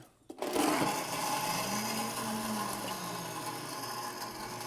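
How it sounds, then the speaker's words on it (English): A blender whirs steadily as it purees fresh strawberries, protein powder and ice into a smoothie, starting with a sharp kick and holding a loud, even churning drone for several seconds. "And right now it's blending everything all together. You can see all the fresh strawberries being blended up in there."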